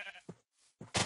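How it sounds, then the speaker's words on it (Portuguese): Two short bleats from a sheep in the video game Minecraft, close and clear, separated by a brief silent gap. "Volta aqui, ovelha."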